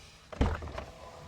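A WOLFBOX electric running board on a truck deploys as the door opens, giving a single dull thunk followed by a short mechanical whir that fades out, close and fairly quiet.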